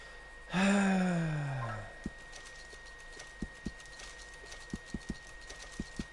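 Horse in the Red Dead Redemption 2 video game: a loud, drawn-out whinny or snort near the start, then sparse, crisp hoof clops at an uneven walking pace, close and fairly quiet.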